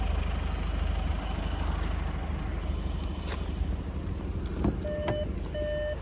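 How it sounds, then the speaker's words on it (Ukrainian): A 2018 Skoda Superb Sportline 2.0 TDI diesel engine idles with a steady, low, rhythmic rumble throughout, close by, with a few brief electronic beeps near the end. "Двигун працює ідеально."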